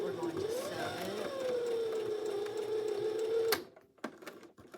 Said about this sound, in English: now we're going to take our sewing machine, back stitch a little bit